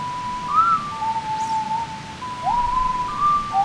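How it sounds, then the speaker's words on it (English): A person whistles a slow, clear melody from Ocarina of Time, one sustained tone gliding between notes with brief breaks, close and fairly loud over faint background hiss. "This one's slow enough I can whistle along and piss everyone off with"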